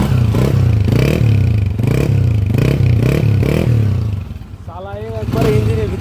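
Honda CG 125 motorcycle engine idling and revving in loud, repeated surges with a rough mechanical clatter, the pitch rising and dropping several times before easing off near the end.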